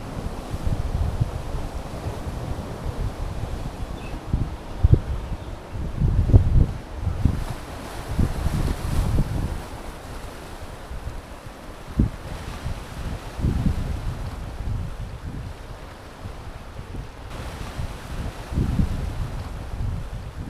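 Sea waves wash onto the Jaigad shore in the Konkan while steady wind buffets the microphone. Low surges swell and recede every few seconds under constant blustery rumble, with no voices.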